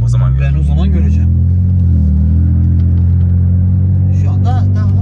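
A BMW E90's engine drones loud and close from inside the moving car, a deep, steady hum that swells slightly, while voices talk over it at the start and end.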